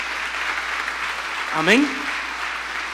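A church congregation claps steadily for a first-time visitor, a dense wash of applause filling the room while a single voice briefly calls out over it.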